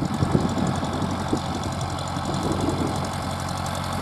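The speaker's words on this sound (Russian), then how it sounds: "А трактор едет, ее закапывает." Tractor engine running steadily at a mid-pitched idle-like rumble while a two-body garden plough works potatoes into the soil, continuous and fairly near with no talking.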